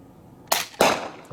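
Two sharp, close shots from a Kral Puncher Armour .22 (5.5mm) bullpup PCP air rifle, about a quarter second apart, each a quick crack with a brief hissing tail.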